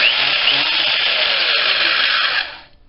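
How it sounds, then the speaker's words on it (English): A Harbor Freight 5-speed 8-inch drill press runs with a loud, steady motor whine close by, then spins down and fades out at the end. "this is my Harbor Freight 5-speed 8-inch drill press"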